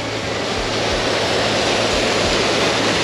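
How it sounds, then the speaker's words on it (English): A mountain waterfall cascading beside Lake Angelus, a steady, loud, dense rush of falling water that roars continuously and unchanging throughout. "Awesome cascades."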